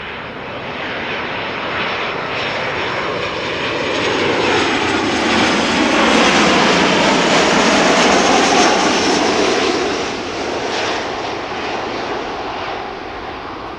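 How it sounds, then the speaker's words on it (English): KLM Boeing 737-700 jet arriving at Amsterdam Schiphol from Zurich, its engine roar loud and close as it passes, swelling to a peak midway and then easing off. "KLM flight 1918 arriving from Zurich 737-700"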